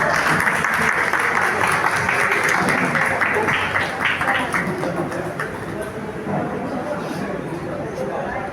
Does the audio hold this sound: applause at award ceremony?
yes